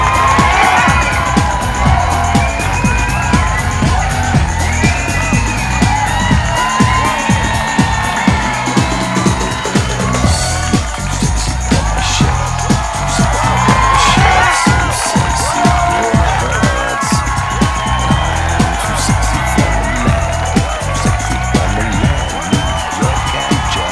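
A crowd at a staged event cheers and applauds for a group of boys, a dense continuous roar of clapping, shouts and whoops from many people, with scattered voices audible throughout.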